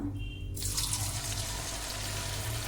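Bitter gourd chip slices dropped into hot oil for deep frying: a sudden burst of loud, close bubbling sizzle that continues steadily after a quieter start.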